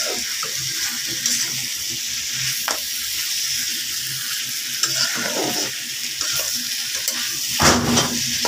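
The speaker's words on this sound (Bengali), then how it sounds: "কষিয়ে নেব এখন।" Spiced flat beans cooking with rohu fish in a pan with a little water, giving a loud, steady sizzle broken by scraping stirs of a spatula, close up and with no speech.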